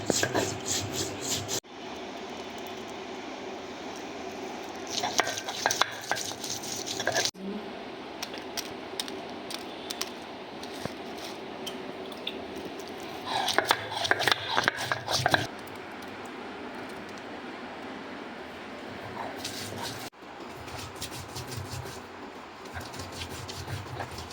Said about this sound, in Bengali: প্রথমে আমি জিরা বেটে নিচ্ছি